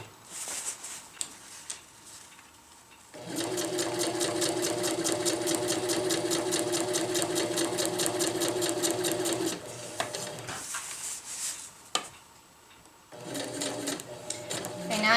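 Sewing machine stitching a tarp fabric ridgeline, a steady rapid mechanical whir running for several seconds, then stopping and restarting, with some quiet handling noise between runs.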